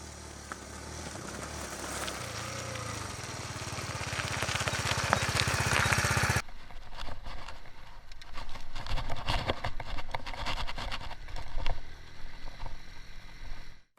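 A tiny small-displacement motorbike riding slowly over little rocks: a steady buzzing engine drone that shifts abruptly midway into a rougher, bumpier rattling putter as the bike rolls over the uneven ground.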